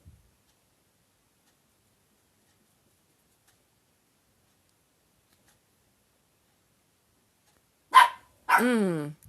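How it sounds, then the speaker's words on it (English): After a long stretch of near silence, a dog indoors lets out two short, loud barks close by, the second with a whining rise and fall. "Okay, you're too loud, puppy dog."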